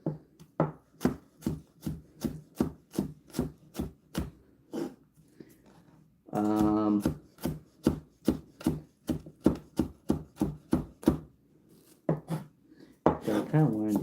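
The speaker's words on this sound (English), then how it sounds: "So I kind of want to do fine chopping on this." Fine chopping of food with a knife on a board, rapid steady taps in quick bursts with a short pause midway, close and moderately loud, with a voice talking over parts of it.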